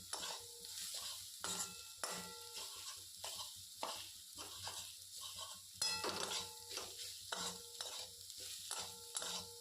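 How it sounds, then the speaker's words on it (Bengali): Fried eggs are stirred through masala in a pan, a steady hiss of sizzling broken by repeated rhythmic scrapes and knocks of a spatula against the metal, close up. "দিয়ে একটু ভালো করে কষিয়ে নেব।"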